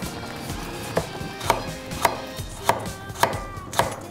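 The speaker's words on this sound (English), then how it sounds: "Next, I'm gonna start to cut the root vegetables." A knife chopping root vegetables such as celery root on a cutting board, with evenly spaced sharp thuds about every half second, close and clear over a faint background hum.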